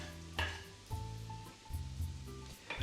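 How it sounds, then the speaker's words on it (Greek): A quiet, steady sizzle of onion sautéing in butter, with occasional soft stirring scrapes against the pan. "Μέσα στο λιωμένο βούτυρο στη κατσαρόλα προσθέτω το κρεμμύδι."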